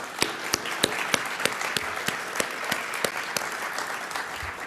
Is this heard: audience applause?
yes